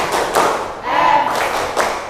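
High school physics class performing a rhythmic group clap chant in a classroom, a few loud patterned bursts of clapping with voices chanting along.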